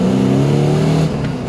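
A BMW E30 fitted with an LS3 V8 accelerates hard, its loud, close engine note climbing steadily in pitch, then easing off briefly near the end.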